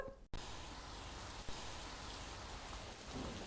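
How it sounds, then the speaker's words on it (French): Steady rain falls outdoors, a dense, even hiss of drops hitting surfaces that continues throughout after a brief cut at the start, with no voices. "Donc déjà 40 minutes sous la pluie, petite vidéo qui le prouve."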